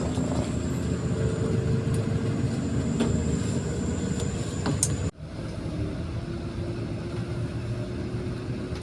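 Rosalia Indah bus cruises along a toll road near Cilegon, giving a steady interior rumble of engine and road noise that briefly drops and then resumes.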